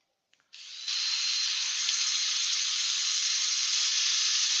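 Olive ash wood being sanded on a spinning drill-driven setup at about 600 rpm, a steady bright hiss that rises after a brief start and holds evenly and fairly loud throughout.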